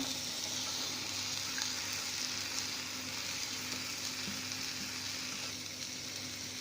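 Steady, even sizzling of chopped ivy gourd frying in a hot pan, continuous and fairly close, with no talking.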